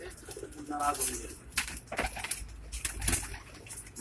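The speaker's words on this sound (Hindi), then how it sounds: "यहाँ पे सारे मेल कबूतर हैं" Male pigeons coo and murmur close by on a Karachi rooftop loft in soft, overlapping calls, with some rustling and faint movement noise.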